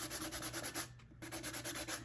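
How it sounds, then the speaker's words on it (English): Close, steady strokes of a sanding block rasping across hardened epoxy on a rhinestone glitter tumbler, in a regular rhythm with a short pause midway before the scrubbing resumes. "And you can probably see as I'm sanding it, it's actually raised."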